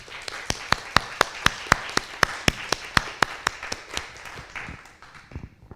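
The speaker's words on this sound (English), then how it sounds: "So can we give a round of applause to ourselves and everyone who is involved?" A small group of community members at an interfaith sanctuary's annual celebration claps in a steady, evenly spaced rhythm, sharp individual claps ringing out close by for several seconds before thinning and fading.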